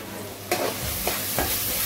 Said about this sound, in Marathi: म्हणजे मसाले चांगले या वाटणामध्ये फ्राय करून घ्यायचे, तेल सुटे तोपर्यंत.